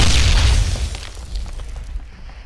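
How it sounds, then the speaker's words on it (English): A grenade goes off in the video game Ring of Elysium, a loud deep boom that rumbles and fades over a couple of seconds. "I threw a grenade."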